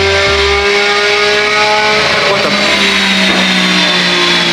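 A Lamborghini SVJ fitted with a Gintani F1 exhaust revs hard and very loud, its engine note climbing sharply with layered harmonics and then falling back, close to the car with no talking.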